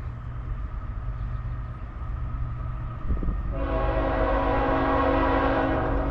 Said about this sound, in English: Or a garbage can train?